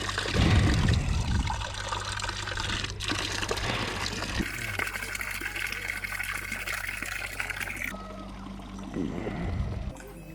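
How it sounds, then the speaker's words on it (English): Mountain spring water on Mt Olympus trickles and splashes steadily at close range, a continuous watery rush with a few louder gurgling bursts near the start and end. "Some much needed mountain spring water."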